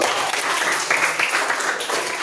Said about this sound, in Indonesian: tepuk tangan dulu Bu